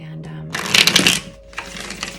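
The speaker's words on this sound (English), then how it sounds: "I'm going to give it one more shuffle for good measure." A deck of tarot cards is shuffled up close, with a loud riffling burst of rapid crisp card flutters, a brief pause, then a second softer round of shuffling.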